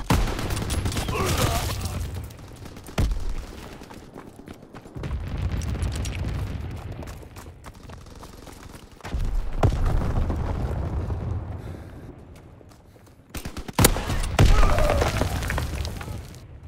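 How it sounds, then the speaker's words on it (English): Anti-aircraft flak guns fire in a WW2 sniping video game, with heavy booming bursts and rumbling fusillades that come in several long waves, loud and close, broken by brief quieter gaps. "Flat guns firing, clearing the skies."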